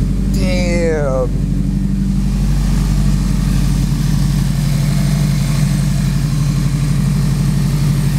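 A turbocharged Honda S2000 engine idles loud and close after starting, with a rough, pulsing low rumble throughout and a rising whistle from the turbo near the start, while people talk over it.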